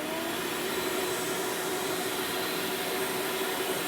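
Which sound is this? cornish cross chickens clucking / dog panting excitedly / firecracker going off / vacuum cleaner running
vacuum cleaner running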